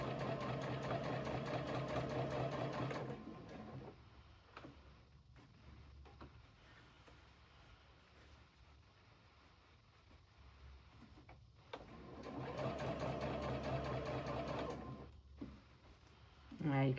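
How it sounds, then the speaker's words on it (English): A Juki DX-4000 QVP sewing machine stitches curved quilt seams in two loud bursts of steady, fast whirring, separated by a quieter gap of several seconds. "So I'm going to continue sewing."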